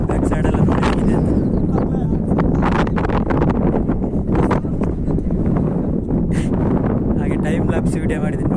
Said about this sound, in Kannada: ತುಂಬ ಗಾಳಿ ಬರ್ತಿದೆ, ಹಾಗೆ ವಾಯ್ಸ್ ಕೇಳ್ತದೆ ಗೊತ್ತಾಗ್ತಿಲ್ಲ.